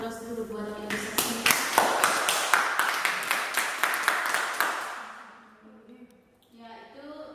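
An audience at an indoor meeting gives a burst of applause, a run of loud, fairly rhythmic claps lasting several seconds that fades out, with a voice speaking before and after.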